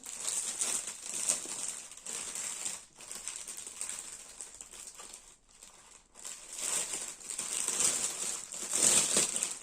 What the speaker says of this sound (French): je le mets de côté pour vous déballer tout ça